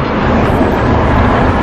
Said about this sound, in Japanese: 車がうるさいですから